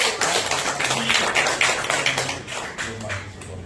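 A protest crowd in Pati applauds at a rally over a cancelled 250% property tax (PBB) increase, breaking into loud, dense, continuous clapping with a low murmur of voices underneath throughout.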